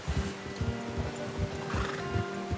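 A horse in the Red Dead Redemption 2 video game neighs while its hooves clip-clop in a steady rhythm, close and clear with no talking.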